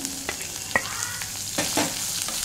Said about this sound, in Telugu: తర్వాత ఉల్లిపాయ, పచ్చిమిర్చి వేసి వేయించుకోవాలి.